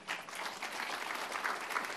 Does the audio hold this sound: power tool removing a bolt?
no